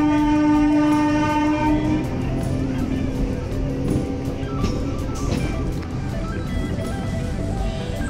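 A DEMU passenger train runs at Renigunta railway station, platform 2. Its horn blares loudly at the start, then a steady, close rumble of the moving train continues for the rest of the clip, with faint voices in the background.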